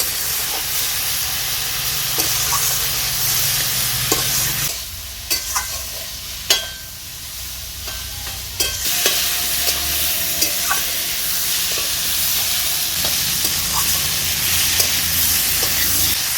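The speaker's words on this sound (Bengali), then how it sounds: "বেগুন আলু ডাঁটাগুলোকে আমি কিছুক্ষণ ভেজে নেব।" Eggplant, potato and vegetable stalks fry in a pan with a steady broad sizzle, while a spatula scrapes and clinks against the pan now and then; the frying runs continuously throughout, close and fairly loud.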